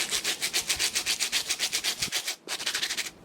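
A brush scrubs hard and fast across a foamed-up Nike Air Force 1 sneaker sole during cleaning, giving steady rhythmic back-and-forth strokes, close and loud, with a brief pause near the end before the scrubbing resumes.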